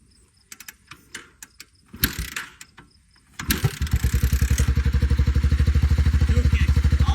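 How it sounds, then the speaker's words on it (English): A Honda Big Red three-wheeler engine catches after a few mechanical clicks and clatters, then settles into a loud, steady, rapid idle thump that runs close up to the end. "This engine sounds good. It's a little smoky though."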